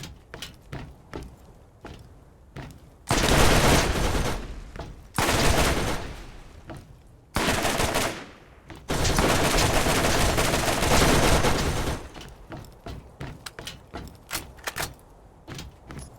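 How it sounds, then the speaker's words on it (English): Machine gun fire in Borderlands comes in long sustained loud bursts separated by short gaps, with scattered single shots and clanks between the bursts. "see about a man and his machine gun"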